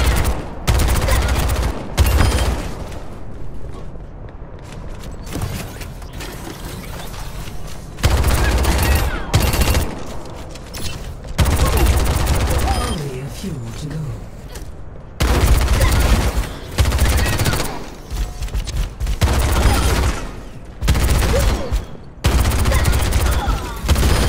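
Weapons fired at training robots in a video game firing range, with loud, dense bursts of automatic gunfire and heavy booms coming in long volleys and short pauses, under an occasional voice.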